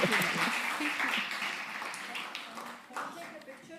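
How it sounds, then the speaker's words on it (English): An audience claps for a science panel at the close of an International Day of Women and Girls in Science event, the applause fading gradually while voices talk over it. "A big round of applause for our amazing panel, please"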